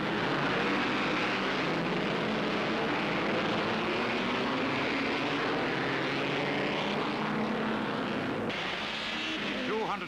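Alfa Romeo 158 Formula One cars pulling away at the start of the 1950 Silverstone Grand Prix, a dense, continuous engine roar from a full grid of cars with a commentator talking over it.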